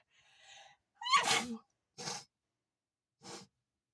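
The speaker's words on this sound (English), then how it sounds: "I feel a sneeze coming on." A sharp sneeze bursts out after a quick in-breath, followed by two shorter breathy sniffs or snorts, close and alone with no talking.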